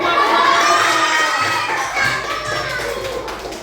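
Schoolchildren in a classroom cheer and shout loudly together, a bright crowd of young voices that starts at full volume and slowly tapers off.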